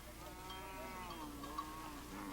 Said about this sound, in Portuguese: os meninos Nuer acompanham as vacas para o pasto